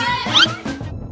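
A cat meows in a Shin Sonic video game, a single short rising-and-falling mew heard close and loud, alone without talk.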